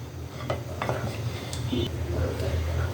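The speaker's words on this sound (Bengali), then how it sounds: "দাঁড়িয়ে থেকে অনবরত নেড়ে নেড়ে তারপরে তালটা জাল দিতে হয়" Palm juice is boiled in a pot and stirred continuously, and a spoon scrapes and knocks against the pot under a low simmering rumble, close and fairly loud.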